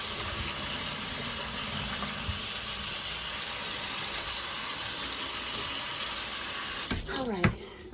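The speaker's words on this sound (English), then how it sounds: "All right, so give it another rinse." Tap water runs steadily into a sink while sea moss is rinsed, a continuous hissing splash at close range with a brief clatter and squeak near the end.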